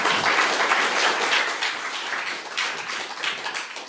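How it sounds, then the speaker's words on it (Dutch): Audience applauding the speakers at a panel talk, a full burst of many hands clapping that gradually thins and softens toward the end. "Maar voor nu wil ik eigenlijk een heel groot applaus voor Jan Middendorp,"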